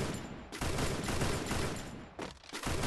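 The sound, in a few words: gunfire in a video game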